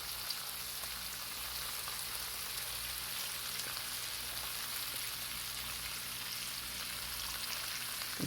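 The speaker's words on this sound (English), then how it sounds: "you're going to notice almost immediately after it starts cooking, you're going to see the sizzle increase big time" Bacon sizzling steadily on a flat griddle, a continuous bright crackling hiss at an even level throughout, with no voices.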